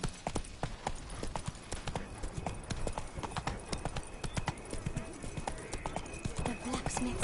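Roach, the horse in the video game The Witcher 3, gallops with rapid, rhythmic clip-clop hoofbeats that are close and steady. Game voices talk over the hooves.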